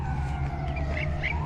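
A police siren sounds amid Port of Spain traffic, its wailing tone gliding slowly downward above a constant low engine and road rumble, moderately loud and unbroken.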